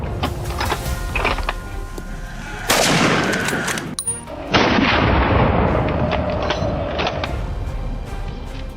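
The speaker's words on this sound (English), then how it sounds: "A bullet tore through the air, striking the beast dead on." A loud gunshot rings out during a wild boar hunt on a Texas farm. Sharp, heavy bursts of fire with rumbling echoes come close together over an outdoor background.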